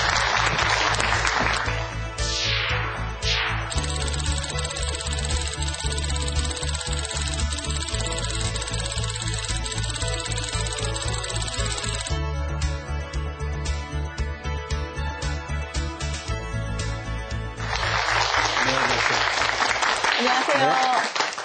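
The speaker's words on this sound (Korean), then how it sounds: "박수로 맞아주시죠" Studio audience applauding in welcome as a design professor is introduced on a televised lecture program, a steady wash of clapping mixed with music, with a host's voice over it.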